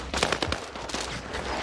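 Video-game gunfire rattles out as a rapid, close burst of automatic shots, with several sharp cracks in quick succession that then trail into lower background noise.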